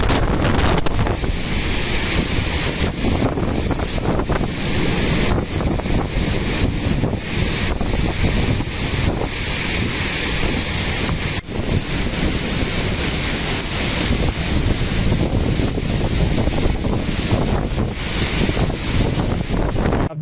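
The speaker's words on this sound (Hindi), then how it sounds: "खौफनाक तूफ़ानी बारिश इस्लामाबाद में" A heavy storm strikes Islamabad, with wind roaring and rushing against the microphone through the whole stretch and rain beating down loudly and without a break.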